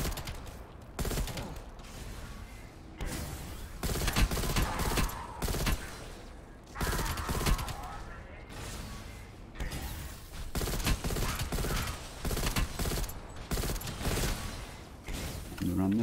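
Repeated bursts of zombie shooter gunfire broken by short gaps for reloading, with mechanical clicks and a voice talking over parts of the action.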